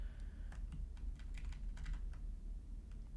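Clicking on a computer keyboard, a rapid sequence of close, crisp key presses over a low steady background hum.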